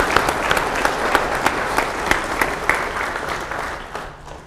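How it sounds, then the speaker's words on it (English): Applause from an audience in a talk or workshop setting, a steady wash of many hands clapping with a few sharper claps standing out, fairly close and filling the room, tapering off slightly at the end. "So a little round of applause for Tyler."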